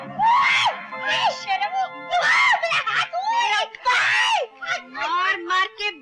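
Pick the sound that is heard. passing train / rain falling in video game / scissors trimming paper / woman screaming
woman screaming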